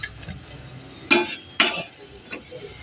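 Food fries in a pan while pieces are added and turned, giving a quiet sizzle with two sharp, bright scraping clatters near the middle and a fainter one later.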